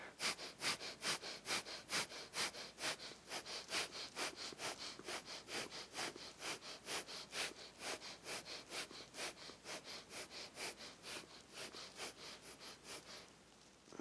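Rapid rhythmic nasal breath of fire during a yoga stretching warmup with hands and feet planted and hips raised, a steady train of sharp sniff-like exhales, about two per second, close and continuous for most of the clip, then stopping.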